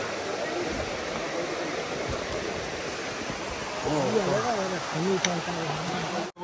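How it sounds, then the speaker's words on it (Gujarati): A river runs beside a rough, rocky dirt path, making a continuous broad rushing wash of flowing water; a voice speaks over it in the later seconds. "બાજુમાં છે નદી."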